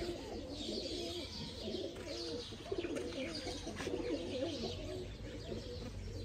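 Female breeder quail calling in soft, repeated coos and chirps, fairly faint and close, with no talk over it.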